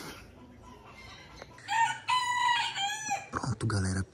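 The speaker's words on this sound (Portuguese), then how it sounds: "Que galo gordo." A fat rooster crows loudly and close by, one long harmonic cock-a-doodle-doo, with clucking fowl sounds before and after.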